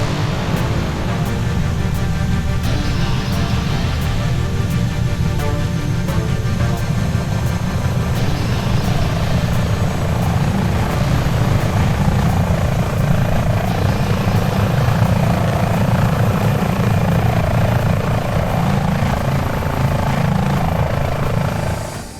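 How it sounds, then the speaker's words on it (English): Helicopter flying on a leg toward the Monaco Grand Prix, a loud, continuous rotor thump and turbine whine heard close from inside the cabin, steady throughout with no talk. "So this means get to the chopper."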